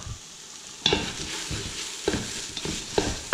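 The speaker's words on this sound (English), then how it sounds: "this is still sizzling away" Food sizzles steadily in a hot pan, with occasional scraping stirs and clinks of a utensil breaking up the hiss.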